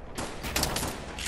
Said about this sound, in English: Watch him snipe him real quick.